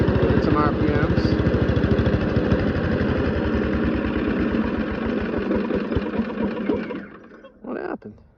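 Tornado/Baker wood chipper's small engine runs steadily at a loud, rattling idle and rev for several seconds, then cuts out and sputters briefly before falling quiet.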